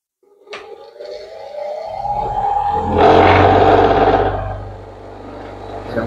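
A grinding wheel is switched on and spins up, a rising whir that climbs in pitch over a couple of seconds, swells into a loud steady roar, then settles and fades as it runs on, close by.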